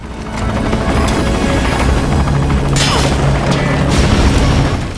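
Hand grenade explosion in Metal Gear Solid V: The Phantom Pain, a loud, dense rumbling roar lasting several seconds, with a sharp crackling burst near the middle and more debris-like clatter after it.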